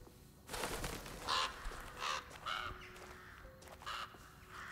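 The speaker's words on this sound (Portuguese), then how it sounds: "Só corvos." Crows cawing in the video game Alone in the Dark (2024, PS5), several separate caws spread across the scene over a faint ambient background, with no talk.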